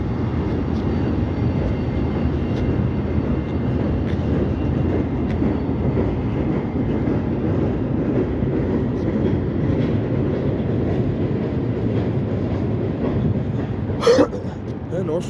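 A CSX freight train led by a Norfolk Southern GP switcher rolls past on the Delair line, a steady loud rumble of wheels and cars continuing throughout, with a brief sharp clank near the end.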